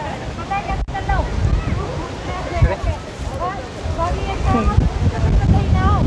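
Strong wind gusting across the Ram Jhula suspension bridge in Rishikesh, blustering against the microphone in an uneven roar, with people talking throughout.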